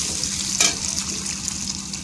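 Mixed vegetables, including potato and cabbage stems, sizzle together in oil tempered with whole spices, giving a steady, loud, close hiss with a brief sharper spatter.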